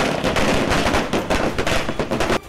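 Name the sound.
fireworks set off in celebration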